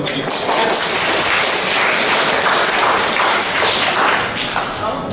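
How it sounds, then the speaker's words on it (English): Dense, sustained audience applause fills a room at a Genericon 2015 convention panel, a steady wash of many clapping hands lasting several seconds with a voice faintly underneath. "Round of applause for Bangor"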